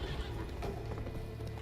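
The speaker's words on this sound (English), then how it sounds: "Well, there goes a horse." Horse in Witcher 3: Blood and Wine neighing and running, with hoofbeat clip-clops mixed into a busy, continuous game soundscape.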